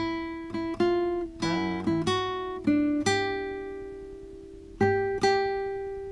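A guitar plays the short melodic second ending of a song in plucked notes, including a quick bent or wavering note, ending on a long sustained ring.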